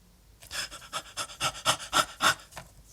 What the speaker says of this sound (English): That's someone panting as they're running, by the way.